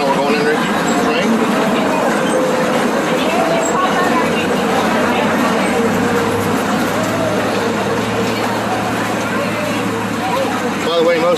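Amusement park train ride rolling into a tunnel at Indiana Beach, a steady close rumble of wheels and car noise filling the whole stretch, with a voice talking over it.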